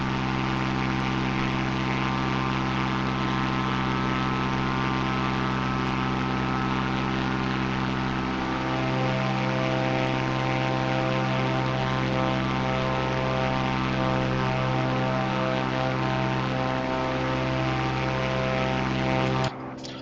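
Airplane propeller engine in a flight game, a steady droning hum with strong harmonic tones that shift slightly in pitch, running continuously until it cuts off at the end.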